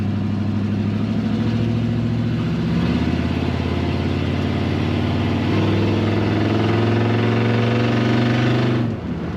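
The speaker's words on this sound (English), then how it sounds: "I love that exhaust sound." Loud, steady exhaust drone of a 1972 Chevrolet C10 pickup from inside the cab while driving, its pitch stepping up slightly partway through before dropping off at the end.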